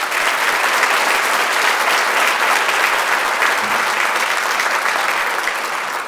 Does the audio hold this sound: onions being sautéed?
no